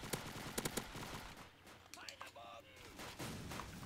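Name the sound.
gunfire in Roblox WW2 video game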